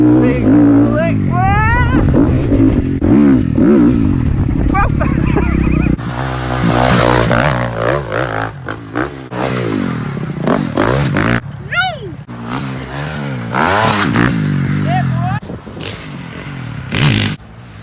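A motocross bike revving hard during a wheelie on a UK free-ride track, engine screaming and rising and falling in pitch through repeated throttle bursts, with a rider shouting and whooping over it.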